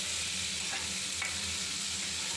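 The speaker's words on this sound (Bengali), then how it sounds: "এখন আবার একটু নাড়াচাড়া করে নেব" Radhuni seeds and ginger paste frying in oil make a continuous, even hiss with a couple of faint utensil touches during a short stir.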